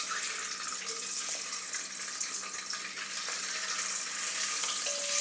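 Six boiled eggs scored with slits fry over low heat in oil with spices for egg masala, giving a steady, dense sizzle that holds evenly throughout with no talking.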